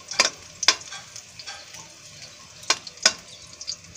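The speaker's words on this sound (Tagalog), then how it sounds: "gisa mo na yung bawang" Garlic sautés in a pan for chicken adobo with Sprite: a low sizzle under a handful of crisp spatula clicks and scrapes from stirring, close by.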